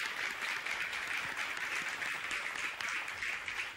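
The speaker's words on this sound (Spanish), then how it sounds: "y un aplauso más para don Tomás." Steady, dense applause from a large television game show studio audience, sustained evenly throughout with no voices standing out.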